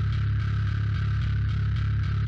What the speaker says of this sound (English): And then I'm using Sanguine bass down here with just a preset.